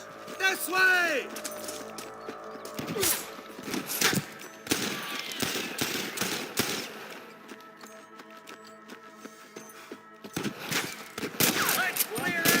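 Rapid sniper and rifle gunfire rings out in a Red Dead Redemption shootout at Pike Basin, with sharp cracks in bursts and clusters over a busy game soundscape and shouted voices.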